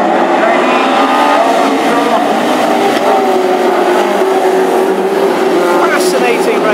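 Classic hot rod race cars at an Ipswich East Anglian Championship final roar continuously nearby, engines droning and shifting pitch as they pass, under steady excited commentary.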